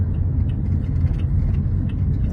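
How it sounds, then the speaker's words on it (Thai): Road traffic crawling in a jam on a city street, a steady low rumble of idling and creeping engines with no clear pass-bys. "รถติดแล้วอ่ะ"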